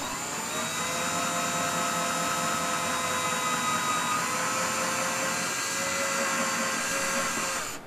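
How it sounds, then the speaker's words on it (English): A power drill boring pilot holes runs steadily and loud for the whole stretch, a continuous whirring motor tone with no talk over it. "Having completed the first of four pilot holes, I'll move over and start on the second hole."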